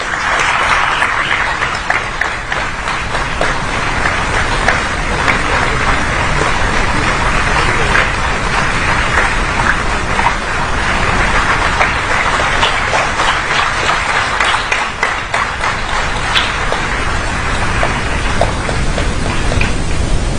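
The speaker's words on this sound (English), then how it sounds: "Let's keep the applause going." Sustained applause from a big audience at an international higher education fair ceremony rolls on for about twenty seconds, loud, continuous and steady, a rain-like roar of many hands with no speech.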